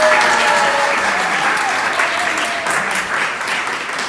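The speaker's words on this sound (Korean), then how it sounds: "우리 신승철 형제께 다시 한번 큰 박수 부탁드립니다" A church congregation gives a big round of applause after a talk, a loud, dense wash of clapping from many hands with a few voices underneath, slowly easing off toward the end.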